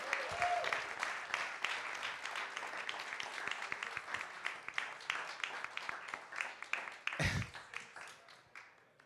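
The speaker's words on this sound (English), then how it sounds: "so just one more round of applause." An audience at a digital creators' retreat applauds: dense, sustained clapping from many hands that continues steadily for several seconds and fades slightly toward the end, heard close and fairly loud without speech.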